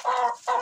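Pushkin breed hens in their second year cluck in two short, close bursts with a brief gap between them, clear and without talking.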